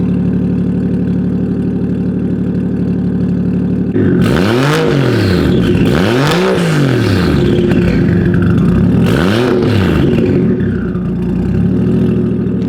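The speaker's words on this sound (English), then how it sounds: "what it sounds like with the new exhaust" The aftermarket exhaust of a Mazda RX-7 FD3S with a 1JZ engine swap idles, then revs hard three times in quick, deep rising-and-falling bursts, loud and close, settling back between each.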